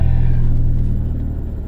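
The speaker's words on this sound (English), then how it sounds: "so the car's loud." A steady, loud low engine rumble drones continuously from a 2013 Fiat 500 Abarth idling nearby, with no other sounds.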